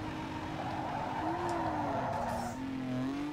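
Car tires squealing as the car spins out in Need for Speed Underground 2, a sustained wavering screech over a loud revving engine that sweeps up and down in pitch.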